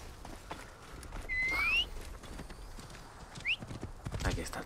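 A horse in Assassin's Creed Origins clip-clops in as it arrives, hooves thudding steadily with a short whistle-like call rising above, moderately loud under faint background ambience.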